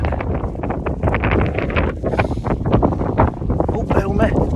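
Strong gusts of wind buffeting the microphone on an exposed hill ridge, a continuous loud roar and rumble that swells and dips unevenly throughout.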